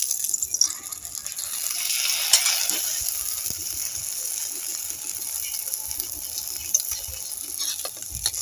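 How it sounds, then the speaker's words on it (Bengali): Patishapta, a Bengali rolled crepe, fries in oil in a pan with a steady close hiss and sizzle, punctuated by a few faint scrapes and taps of a utensil; no voices. "এবার একটু আমি তেল দিয়ে ভেজে নেব।"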